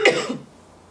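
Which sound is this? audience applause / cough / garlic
cough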